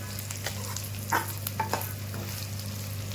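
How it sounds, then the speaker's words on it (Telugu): Dried salted fish frying in a pan with chilli powder, salt and ginger-garlic paste, a steady low sizzle with a few soft stirring scrapes and clicks over a constant background hum. "కారం కూడా వేసి కొంచెం ఫ్రై చేసి సబాబ్ చేస్తే సరిపోతుంది"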